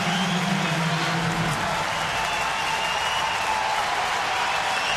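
A baseball stadium crowd of nearly 36,000 at a night game cheers and applauds steadily, a dense, loud roar filling the whole stretch without letup.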